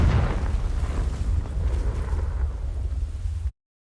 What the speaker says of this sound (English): These dry vines are one spark away from becoming kindling. Confringo! Confringo!